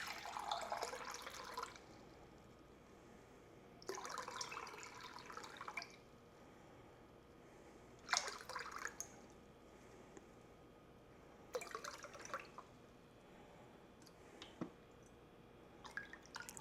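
Water pours in four separate bursts into a measuring cup on a kitchen scale, each about two seconds long with quiet gaps between them, close and fairly soft, with a few faint drips.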